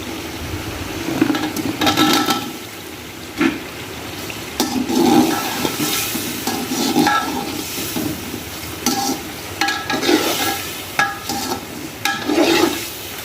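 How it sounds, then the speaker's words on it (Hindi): Potatoes frying with spice masala in a pot for aloo pulao, heard as a close sizzle with repeated scraping stirs and bursts of wet stirring at a steady, uneven rhythm. "आलू शामिल करने के बाद इसको एक बार फिर भून लेंगे थोड़ी देर के लिए"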